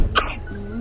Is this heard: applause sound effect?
no